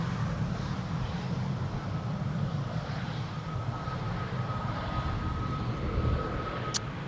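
A jet airliner rolling out on the runway after landing at Amsterdam Schiphol, without reverse thrust, producing a steady loud broadband engine rumble and roar that holds throughout, heard from a distance.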